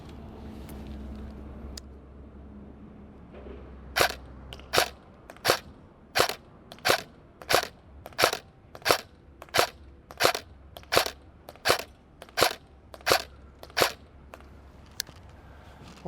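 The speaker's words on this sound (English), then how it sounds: "Let's see how accurate we are on body size targets shooting our middle EMG cardboard target." An EMG Colt M16A3 airsoft AEG fires a rapid string of about eighteen sharp, evenly spaced semi-auto shots at a cardboard target, each crisp crack standing out over a low background rumble, with no talking.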